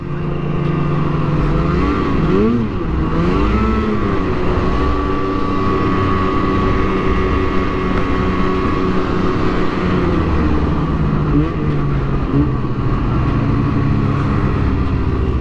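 A snowmobile engine drones loudly and continuously along a snowy trail, its pitch rising and falling as the throttle is worked, close and constant throughout with no talking.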